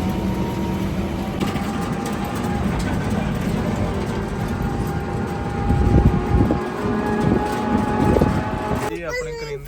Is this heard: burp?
no